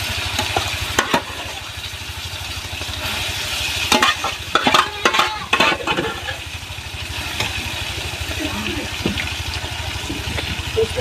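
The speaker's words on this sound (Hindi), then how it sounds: "तो गाइस देख लीजिए मैं भाजी छौंकती हूँ।" Vegetables being tempered in hot oil in a village home kitchen in India, a steady loud sizzle and crackle with intermittent scraping clatter of a spoon stirring the pan, and light speech in the background.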